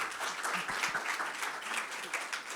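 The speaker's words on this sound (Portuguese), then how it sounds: "Palmas para a Bia" An audience claps for a speaker invited onto the stage at a book fair event, a soft, moderately distant patter of many hands held steady for a couple of seconds.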